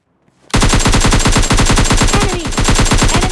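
M16A4 rifle fire in a video game squad fight: after a brief quiet start, a loud, unbroken burst of rapid automatic shots runs to the end.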